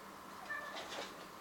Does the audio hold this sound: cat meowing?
yes